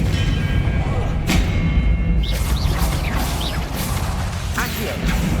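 Confringo blasting spell in the Hogwarts Legacy video game, dense game combat with repeated thumping blasts, crashes and whooshes over a constant low rumble, several impacts in a few seconds, loud and close with no voices.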